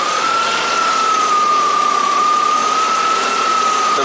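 A/C compressor on a 1991 Audi 200 Quattro with its clutch engaged and spinning, giving a steady, loud, continuous whine with a sustained tone over the running engine, unchanging throughout.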